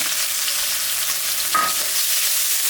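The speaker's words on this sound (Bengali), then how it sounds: "পেঁয়াজটা একটু ভাজা ভাজা করে নেব," Onion frying in hot oil gives a steady, close sizzle with a brief louder flare midway, as if stirred, and no voices.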